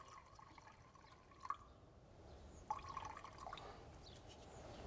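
Liquid primer mix for an aluminium car panel trickles into a cup on a scale, giving faint, quiet dribbling and a few small drips in two short spells against low background noise.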